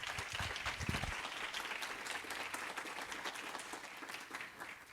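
An audience greets presenter Maurício de Luca at a tax filing talk with steady, fairly faint applause, many hands clapping continuously for the full five seconds with a few louder claps early on.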